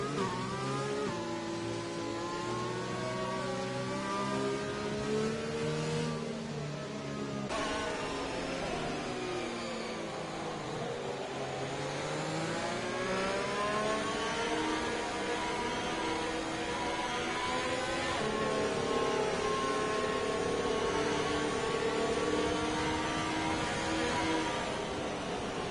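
Race cars on the Azerbaijan circuit in a racing video game league, engines droning and shifting pitch continuously as cars run in line behind the safety car, steady and fairly loud with no talk.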